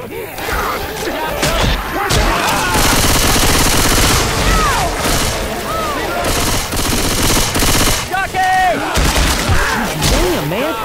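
Heavy, near-constant gunfire from a Left 4 Dead 2 versus match on Xbox 360, dense rattling bursts with shattering and mechanical clatter piling up, loud and continuous for several seconds.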